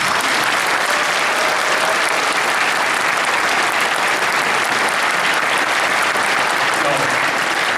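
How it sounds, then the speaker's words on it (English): A large convention audience at Midwest Furfest gives staff a long, sustained round of applause, dense steady clapping with no break. "please, a round of applause for these guys, if you please"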